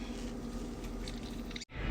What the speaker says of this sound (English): So I'm just gonna squeeze out all the water out of my soybean balls.